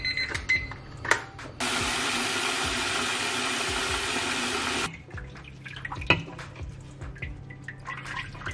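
Boiled water poured from a kettle over fresh spinach, a steady, close hiss and splash lasting about three seconds. Brief kitchen clatter comes before and after it.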